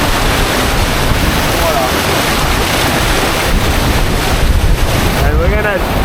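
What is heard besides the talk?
torrent of water in icy land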